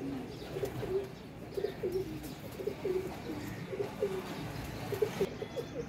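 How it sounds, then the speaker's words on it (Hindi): Several pigeons coo repeatedly over a steady, busy background, the low rolling calls recurring every second or so at moderate distance. "कबूतर ले आए हैं, कांटों वाला कबूतर है, चेक कर लें।"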